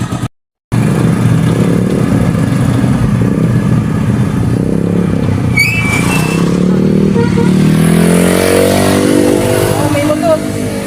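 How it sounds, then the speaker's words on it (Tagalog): A motorcycle passing on a street by a market, its engine note rising and sliding in pitch as it goes by, loud and close amid steady traffic noise. "Oh, may motor."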